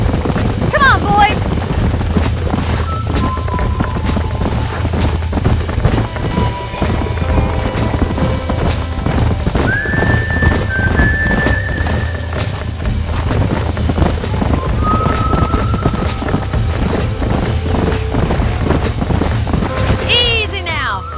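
Horses clip-clop and whinny in Red Dead Redemption, hooves beating steadily throughout with a few bright neighs, set against a low music bed and brief voices.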